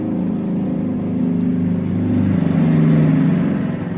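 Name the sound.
motorbike passing by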